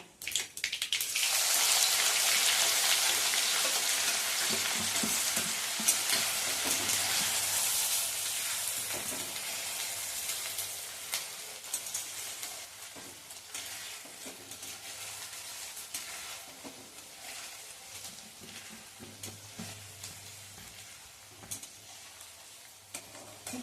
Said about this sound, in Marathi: बघा मोहरी तडतडायला लागली की त्यामध्ये आपण घालणार आहोत कढीपत्ता आणि त्यानंतर आपण घालणार आहे एक कांदा बारीक चिरलेला